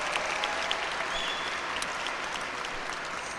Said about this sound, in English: You have worked hard and first and foremost deserve to give yourselves a round of applause.